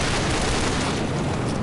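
Dense, continuous roar of gunfire and explosions from Call of Duty Modern Warfare 2 multiplayer amid thick smoke, loud and unbroken with no clear separate shots.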